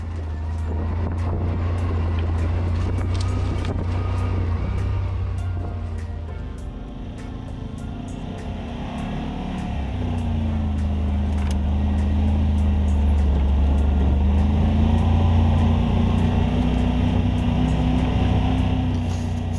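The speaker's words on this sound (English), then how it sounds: "Back on board with the R-Max now, looking out the front." An R-Max side-by-side off-road vehicle drives a Spearhead Trails route near Mountain View, heard from on board as a steady engine drone with rising and falling revs over the bumpy trail.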